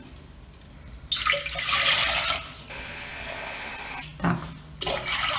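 Tap water gushes into a measuring cup, half a litre at a time, in a loud rushing burst that stops briefly and then resumes. Someone speaks a single short word in between.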